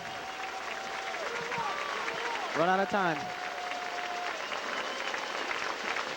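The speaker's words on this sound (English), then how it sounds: "As the fans are cheering," A high school football crowd applauds and cheers during a fourth-quarter timeout, a broad steady wash of clapping as a voice speaks over it and a whistle or horn sweeps briefly.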